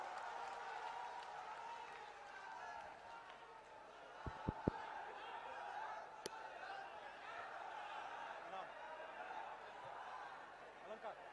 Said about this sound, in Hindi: जब तक जोरदार तालियों से स्वागत करो आप राहुल जी का